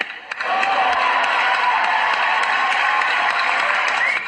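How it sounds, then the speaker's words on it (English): A theatre or show audience breaks into sustained applause, steady dense clapping mixed with some cheering that swells quickly and holds at a loud, even level throughout. "give a round of applause for not singing tonight"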